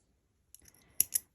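Scissors snip yarn at the end of a single-crochet piece, with two sharp, close metallic cuts after some soft handling rustle, quiet and without speech.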